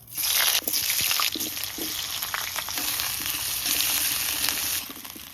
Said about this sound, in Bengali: সর্ষের তেল দিয়ে দিচ্ছি আলুর দম রান্না করার জন্য এই আলুগুলোকে ভালো করে ফার্স্টে ভেজে নেব